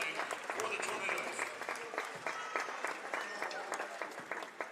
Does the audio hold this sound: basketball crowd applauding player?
yes